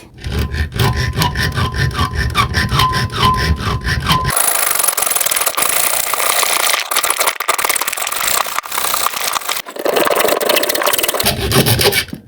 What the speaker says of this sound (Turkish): Tabi işi Bauhaus'un testeresi yaptı ama tabi tutan da search oldu.